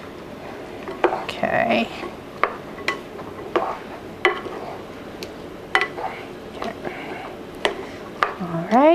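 Chili ingredients including tomatoes are stirred in a pot, producing a series of repeated scraping knocks and soft wet squishes at close range, with a brief spoken word.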